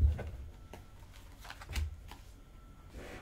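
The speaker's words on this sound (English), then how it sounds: "Let's go on and cut the deck to get that third card out." A tarot deck is cut by hand, giving a few short papery shuffles and soft card slaps with brief pauses between them. The sounds are close and fairly quiet.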